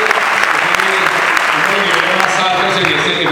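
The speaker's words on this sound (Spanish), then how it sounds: "pido un aplauso muy grande" Large audience applause at an Amway business seminar in Colombia, loud, thick and continuous clapping close by, with crowd voices blended underneath.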